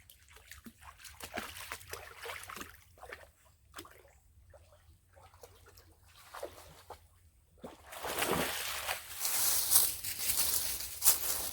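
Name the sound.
dogs splashing in a creek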